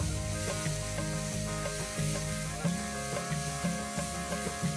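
Green chillies frying with onions in a pan while cooking a green peas sabzi, a steady close sizzle under a constant tonal hum, with occasional soft stirring scrapes and no talk.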